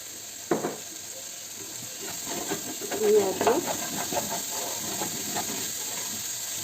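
Mixed vegetables cooking in a pan on the stove, stirred with a spoon, giving soft scraping knocks over a low sizzling hiss, fairly close and moderate in level.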